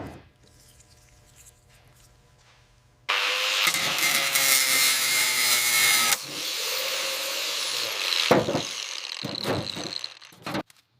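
A power tool whirs loudly as it drives bolts into the dash of a 1914 Cadillac Type 51, in one long sustained run followed by shorter bursts, after a quiet start.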